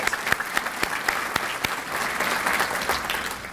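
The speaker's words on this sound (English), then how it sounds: "Let's give the Portsmouth City Council a round of applause" Audience applause for the Portsmouth City Council at Suffolk, Virginia's 2022 State of the City event, dense steady clapping from a room full of people with a few sharper claps standing out.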